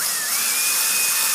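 A power drill spinning in low gear while honing a Banshee cylinder bore with a little WD-40, a steady high whine close by with no voices.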